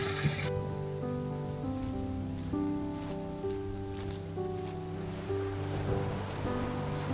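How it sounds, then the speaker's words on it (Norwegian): Light rain falls steadily on a cold, foggy day in Norway, just a few degrees above freezing: an even, continuous soft hiss and patter under a sustained tonal hum, with no voices. "Det regner lett. Det har regnet i hele dag."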